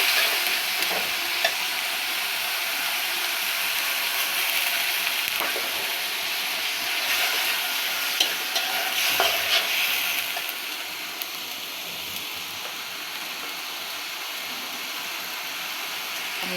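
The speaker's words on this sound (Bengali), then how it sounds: "শুটকিটা ভালোভাবে মশলার সাথে কষিয়ে নিচ্ছি।" Dried fish stir-fried with spices in a pan, a steady hissing sizzle close by with repeated scraping stirs, easing slightly toward the end, no talking.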